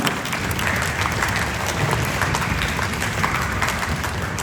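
A school spring concert audience applauds the parent chaperones, a loud, thick wash of continuous clapping from a large crowd, steady throughout with no speech.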